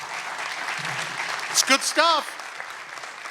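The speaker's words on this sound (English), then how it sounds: "That's applause." Audience applause at an energy summit in West Virginia fills the hall as a steady wash of clapping, with someone speaking briefly over it partway through.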